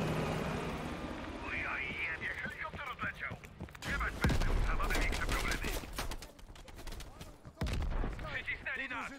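Helicopter rotor noise churns amid bursts of gunfire and sharp impacts in Call of Duty: Black Ops Cold War, with voices talking over the action.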